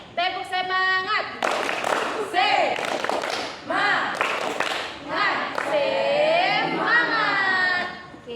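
Students in a junior high school counseling session do a rhythmic clapping chant, bursts of group claps mixed with children's chanting voices and a teacher's voice, lively and close in a classroom.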